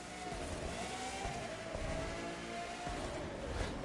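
A Pagani sports car driving in The Crew 2, a faint, steady engine hum with a thin whining tone holding across the short stretch, low and even with no speech.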